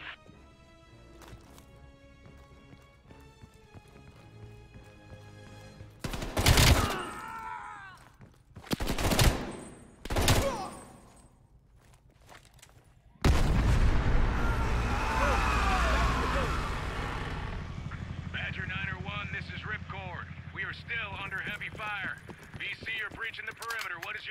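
Minigun fire in Call of Duty Cold War: several loud, dense bursts of rapid fire, then a long sustained roar of shooting and rotor-like noise, with voices speaking underneath at times.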